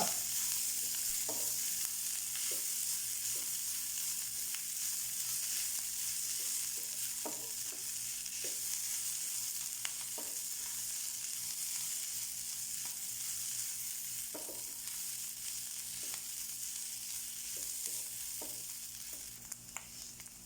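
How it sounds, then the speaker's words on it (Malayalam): Minced beef frying in a pan with masala powder, a continuous soft sizzle broken by irregular scrapes and taps as a spoon stirs it, heard alone without speech. "മസാലപ്പൊടി മൂത്ത് വരുമ്പോൾ നമുക്ക് മിൻസ് ചെയ്ത ബീഫ് ഇട്ട് കൊടുക്കാം എല്ലാം കൂടെ മിക്സ് ചെയ്യുക"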